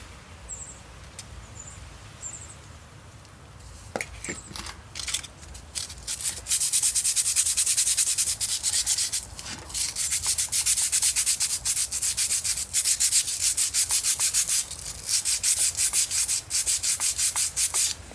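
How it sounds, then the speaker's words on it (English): Sandpaper with WD-40 scrubs rust off a chrome fan part: a quiet start with a few light scrapes, then fast, continuous back-and-forth rasping strokes, close and fairly loud, until the end. "I'm going to use some sandpaper that I actually already used a little bit. And just put on the WD-40 and scrape."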